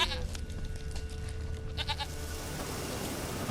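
Goat bleating in The Witcher 3 video game, a few short bleats heard amid steady ambient game background noise.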